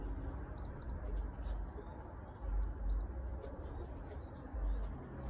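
Pigeons settle in a new loft, giving soft, faint coos and murmurs over a quiet room hiss, with a few brief higher chirps scattered throughout.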